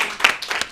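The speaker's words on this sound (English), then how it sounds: "Can we get a clap for that?" A small audience gives a few quick, scattered hand claps at a casual movie-chat show, brief and fairly close.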